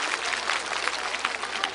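Light applause from a festival crowd, a steady dense patter of many hands held at a moderate level throughout with no break.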